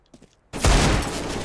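Gunfire in Counter-Strike on the Mirage map: after a near-silent moment with faint sounds, a loud burst of rapid shots erupts and carries on densely to the end.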